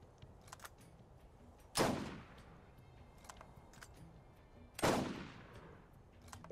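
Two loud, sharp sniper rifle shots from the Borderlands video game, spaced about three seconds apart, each with a booming decay over faint background game ambience.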